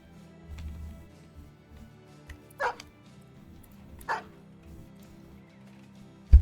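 A dog in a video game gives two short yipping barks a couple of seconds apart, fairly close over quiet low background sound, followed by a sharp thump at the end.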